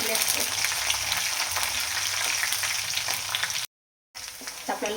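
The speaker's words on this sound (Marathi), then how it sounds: "लसूण चांगला ब्राऊन कलरचा होतो तळून द्यायचा आहे" Garlic frying in oil, a dense, close crackling sizzle that runs steadily, broken by a short silent gap before resuming.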